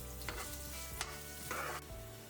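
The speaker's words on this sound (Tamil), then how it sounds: "அதையும் போட்டு நல்லா வதக்கி எடுத்துடணும்" Finely chopped onion is stirred and sautéed in a pan for Tamil-style crab masala, a close, steady sizzle with brief scraping swells as the spatula moves through the pieces.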